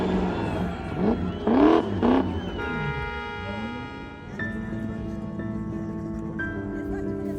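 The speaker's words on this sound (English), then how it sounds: "We keep the back wheels burning so that it's always smoking until the tire pops." A drifting car spins with its rear tires burning, the engine revving hard and then holding a steady high drone, loud and close, with a spectator voice briefly rising over it.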